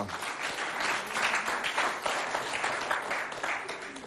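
An audience at a Chadian lycée school event applauds a student arriving, producing dense, sustained clapping that stays loud and even from start to finish.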